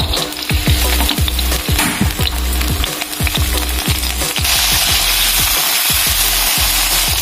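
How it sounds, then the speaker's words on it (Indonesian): Peanuts, about 80 grams, fry in hot oil for peanut sauce, with loud continuous sizzling and a regular rhythm of stirring scrapes close by. "Kemudian kita goreng kacangnya."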